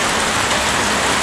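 Steady, dense rain falls outdoors at night near an indigenous village in the Dambana area of Sri Lanka, a continuous even hiss close to the microphone with no other sounds standing out.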